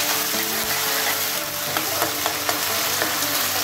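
Onion frying in a pan for chicken liver gravy makes a loud, continuous crackling sizzle with a few light stirring taps. There is no speech.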